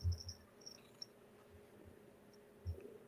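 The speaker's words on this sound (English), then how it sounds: "Cricket sounds." Crickets chirp faintly in short, scattered bursts against a quiet night background, with a couple of soft low thumps.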